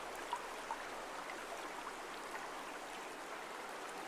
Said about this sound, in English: Some running water.